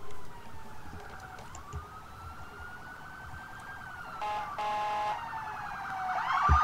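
An ambulance siren wails in the video game Emergency 4, a rising-and-falling tone over a low background hum, shifting into a faster yelp pattern near the end, heard without talk.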